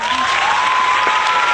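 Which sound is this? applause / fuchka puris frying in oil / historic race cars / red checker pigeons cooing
applause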